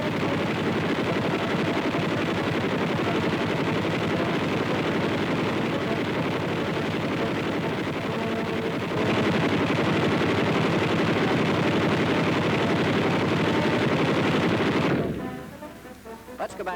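Four heavy-barrel .50 caliber machine guns on a self-propelled antiaircraft vehicle fire together in a loud, sustained roar of rapid gunfire that runs unbroken for about fifteen seconds, then cuts off abruptly.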